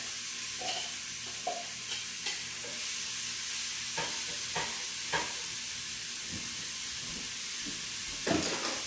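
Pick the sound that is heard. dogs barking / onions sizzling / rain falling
onions sizzling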